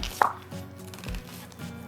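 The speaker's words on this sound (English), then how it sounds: "We're just gonna chop some of those onions." A knife chops onions on a cutting board in a kitchen, one sharp close knock followed by a few softer taps, fairly quiet overall with no talking.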